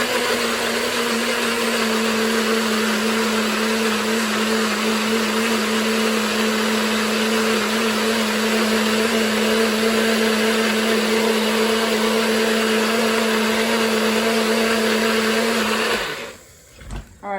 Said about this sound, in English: trusty Nutribullet. This thing has gotten me through life for the last like, Years.